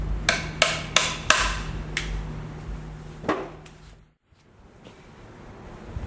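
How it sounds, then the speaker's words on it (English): Small high-pitched single-headed Chinese opera drum struck sharply, giving a penetrating woodblock-like crack; five quick hits, then two more spaced strokes, close and dry, followed by quiet. "This one has the head torn again, so the sound will be what it should be, which should be like a very penetrating high woodblock."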